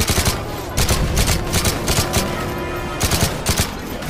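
Rapid automatic gunfire in the video game Call of Duty: Modern Warfare 3 crackles loud and close in dense, continuous bursts, with short gaps between volleys.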